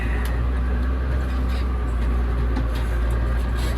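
A worn-out, clapped-out 60/30 tractor with 12,000 hours runs continuously nearby. Its deep, steady engine rumble works away without pause, with faint rattles and knocks on top and no voices.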